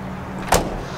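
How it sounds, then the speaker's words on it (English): The tailgate of a 2019 Ford F150 Raptor aluminum pickup shuts with a single short, close thunk over a low idling hum. "Putting the tailgate up is very easy"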